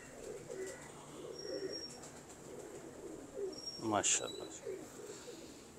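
Pigeons, a prized female among a breeding pair, coo softly in the background in low repeated phrases, with a brief chirp; someone speaks briefly.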